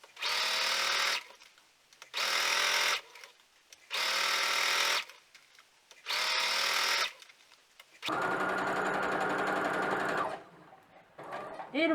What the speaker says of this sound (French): on va bien coudre tout le long de la bande jusqu'au bout à 1 cm du bord